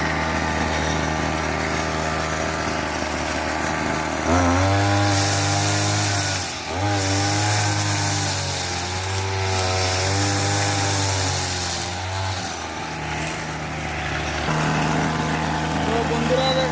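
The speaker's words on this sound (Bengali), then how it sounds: "মেশিন স্টার্ট আছে, পুরোনো মেশিন, সারের বাড়ির মেশিন। এটা হচ্ছে ঘাসটা কাটতে পারবে।" An old grass-cutting machine at a house runs loudly and continuously, its engine dipping and surging in pitch as it bites into grass, with a voice talking over it.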